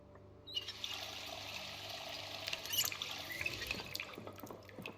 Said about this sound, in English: let's fill our water bottles